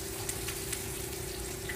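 Meat searing in a hot pan, a steady dense sizzle at low level with a few faint pops, no talk.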